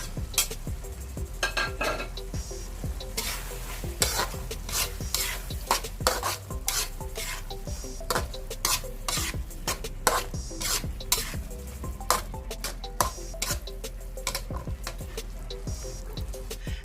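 Onions sautéed with corned beef in a pan for a Filipino ginisang corned beef with potato, stirred in quick, busy clattering scrapes with utensil clinks over a continuous loud sizzle.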